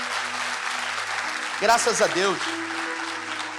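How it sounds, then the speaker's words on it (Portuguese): A church congregation applauds during a sermon, a steady wash of many hands clapping throughout, with a voice briefly speaking over it. "Você pode aplaudir Jesus?"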